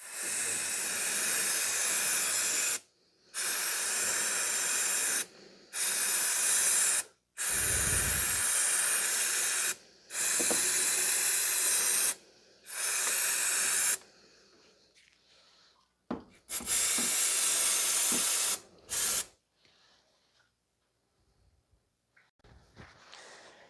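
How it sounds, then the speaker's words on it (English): Brake cleaner sprayed in repeated hissing bursts over the engine of a 2009 Subaru Impreza 2.5 SOHC EJ253 during a timing belt service, several long close sprays separated by short pauses, then shorter spurts and quiet. "You just want to wash down the area with brake cleaner and wipe everything down."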